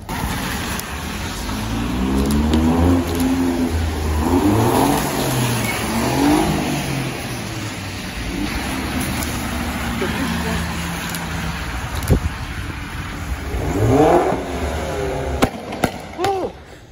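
An Aston Martin V12 Vantage engine revs hard nearby, rising and falling in pitch, with a sharp high-revving burst near the end and traffic in the background, in pouring rain.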